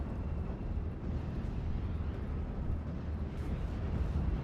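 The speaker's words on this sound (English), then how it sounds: "The barrage is now coming out now." A continuous low rumble of distant artillery barrage explosions in a video game rolls on without pause, a heavy booming wash that stays steady and loud throughout.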